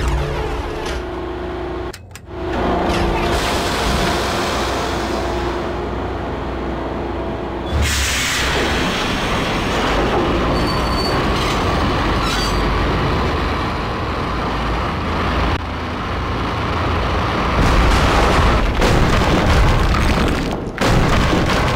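Heavy rumbling and booming from a powered-up train in the video game Max Payne, loud and continuous with a sharp drop near the start and a renewed surge of roaring noise after it, no voices.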